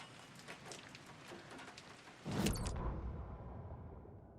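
Rain falls on a city plaza in Alan Wake 2, a soft steady patter that swells into a louder, closer wash of rain partway through.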